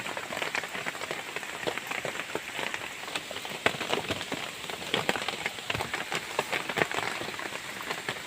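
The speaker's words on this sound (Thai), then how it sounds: "ฝนก็ตกไปปล่อยตลอดเลยครับ" Steady rain falls all around the lodging, a dense, even patter on surfaces with scattered louder drops, close and continuous with no voices.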